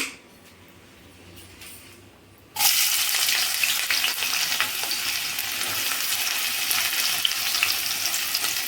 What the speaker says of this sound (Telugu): ఆయిల్ కాగిన తర్వాత ఆనియన్స్ వేసుకోవాలి